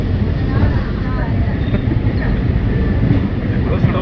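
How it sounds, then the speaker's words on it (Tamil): A Tambaram suburban train passing below an elevated viewpoint, heard as a steady, loud rumble of rail wagons throughout, with voices talking over it. "இது பாருங்க கீழே ஒரு ட்ரெயின் போகுது. தாம்பரம் ட்ரெயின்."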